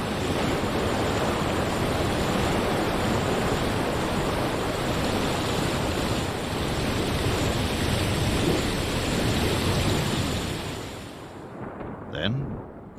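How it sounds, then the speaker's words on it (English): Flash flood water rushes through dry Sonoran Desert channels in a dense, continuous roar that stays loud and steady, then fades out near the end. "Channels that have not felt the caress of water for months or years become raging cataracts."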